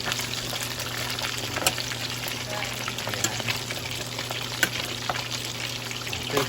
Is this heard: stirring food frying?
yes